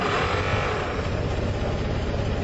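A cold Model T Ford engine starts on the starter: a loud, steady, rough mechanical rumble and clatter, close by and continuous, with no voices.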